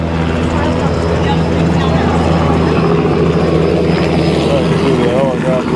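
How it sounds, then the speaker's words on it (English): A helicopter flies past at the Wings Over Camarillo air and classic car show, its steady, loud rotor and engine roar filling the scene while people talk nearby. "Who the helicopter flying by."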